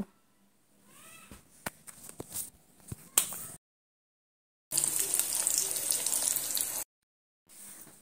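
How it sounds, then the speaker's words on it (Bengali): Eggs coated in turmeric and chili powder fry in hot oil in a pan, giving a close, loud crackling sizzle. It comes in bursts with silent gaps between them, and scattered clicks and soft movement sounds come before it. "এবার আমি ডিমগুলো নেড়েচেড়ে সুন্দর করে ডিমগুলো লালচে রং ধরিয়ে ভেজে নেব।"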